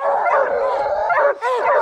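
Bear hunting hounds bark and yelp in quick, loud bursts close by, several sharp yips tumbling over one another with a brief gap before another excited volley.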